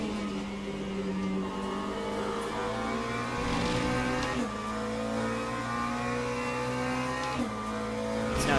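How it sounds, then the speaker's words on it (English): A BMW hypercar passing in the Le Mans Ultimate racing game at Interlagos, a steady, droning engine note with upward shifts and a swell as the car goes by, no voices. "BMW Hypercar coming through."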